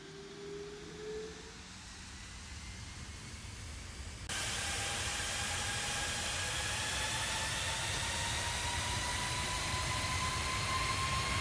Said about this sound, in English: Hear this engine spooling.